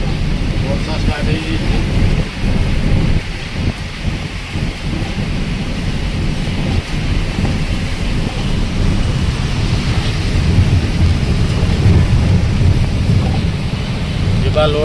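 Steady rain with rumbling thunder during a thunderstorm on the road while a truck heads to Koida to load iron ore, a continuous loud wash of rain with low rolls of thunder and no clear talk.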